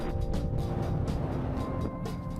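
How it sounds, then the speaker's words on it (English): Steady road traffic rumbles at a low level, with vehicles passing in soft hiss-like swells over a constant background drone. "Now look at this traffic, guys."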